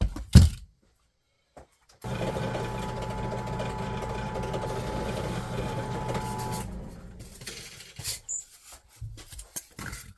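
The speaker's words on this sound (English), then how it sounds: "I'm going to do it on the drill press" A drill press bores holes, starting after a brief knock and silence with a steady mechanical whir and grinding hum for several seconds, then winding down into scattered clunks and handling noises.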